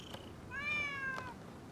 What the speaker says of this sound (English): Who'd have thought a stray cat would wander in?